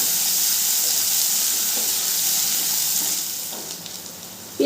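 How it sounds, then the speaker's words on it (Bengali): Chopped onions frying in a pan while an omelette curry is cooked, a loud steady sizzle and hiss that eases slightly near the end, with faint stirring. "পেঁয়াজটা দিয়েও খুব ভালো করে নেড়ে চেড়ে লাল করে ভেজে নেব।"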